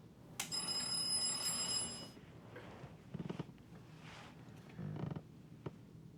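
An early-morning telephone bell rings in a steady trill for about two seconds, fairly close, then gives way to quieter room noise and a few faint knocks.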